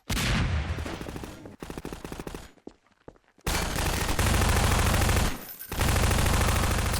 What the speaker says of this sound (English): I think he's shooting at zombies